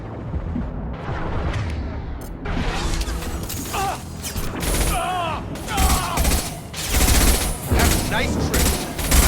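Sustained gunfire and explosions in the Mass Effect 2 shooter: loud, continuous bursts and impacts throughout, mixed with shouted combat voices.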